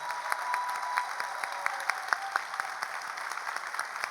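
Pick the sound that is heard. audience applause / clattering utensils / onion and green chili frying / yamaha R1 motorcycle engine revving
audience applause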